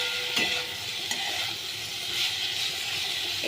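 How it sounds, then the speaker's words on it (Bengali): Snake gourd and potato poppy seed curry being stirred in a frying pan, a steady close sizzle with a few soft scraping strokes across the short stretch. "এইবারে আরেকবার আমি একটু নাড়িয়ে নিলাম।"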